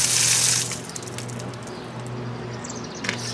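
Water runs from a new brass 1/2-inch outdoor hose bibb faucet at reduced pressure. A loud hissing gush at the start eases into a steady, softer flow with light splashing, close by.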